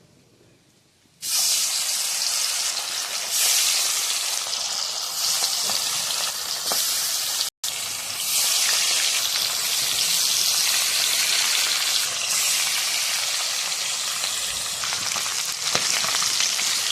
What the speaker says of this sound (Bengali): এখানে কড়াইতে তেল দিয়েছি, মাছে নুন হলুদ মেখে নিয়েছি, দেবো ভাজা